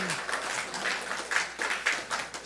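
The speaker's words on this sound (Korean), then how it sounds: "박수 한번 칠까요, 우리?" A church congregation at a Sunday Methodist service in Columbus breaks into warm, steady applause, with many hands clapping together, close and moderately loud, and a faint voice underneath.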